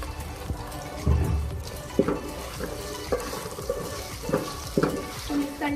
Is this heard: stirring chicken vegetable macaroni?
yes